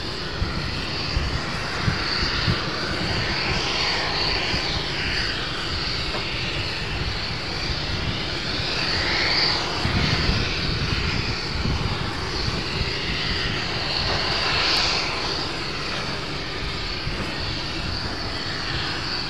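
A Boeing 747 takes off at Amsterdam Schiphol, its jet engines producing a continuous, powerful roar with a whining high tone, heard steadily from nearby throughout.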